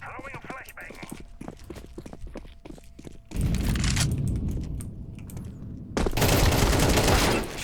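A flashbang grenade thrown in Counter-Strike 2, giving sudden loud bursts of broadband noise over earlier clicky footsteps and game sounds, with a second blast-like burst near the end.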